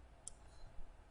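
A single soft computer mouse click while editing in Premiere Pro, very brief and faint against quiet room hiss.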